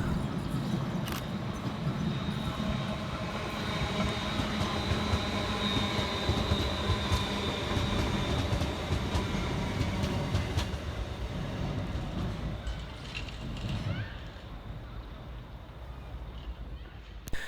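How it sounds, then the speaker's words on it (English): A ScotRail Class 380 electric train passes through a station on the high-side line, its steady rumble and wheel noise loud and close for most of the stretch, then easing away near the end. "Passing through on the high side is 380-012, working 2 Alpha 46 for Scotrail from Glasgow Central through to Barhead."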